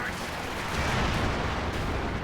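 Tank cannon fire in Company of Heroes 2 during a match where a Panzer scores a penetrating hit on a Comet, with booming shots rolling under dense battlefield noise and continuous rumble.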